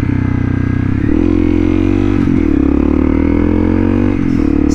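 A motorcycle on the road slows for a left turn while its rider shifts down. The engine drones loud and steady, with the pitch dipping briefly around the gear changes.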